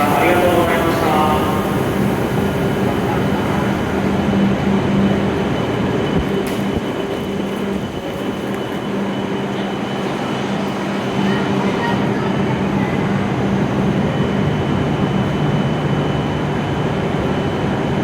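A Hokuriku Shinkansen W7 series train pulls into platform 11 at Kanazawa station, a steady loud rolling rumble with a faint high whine that eases as it slows, while a station announcement plays over it.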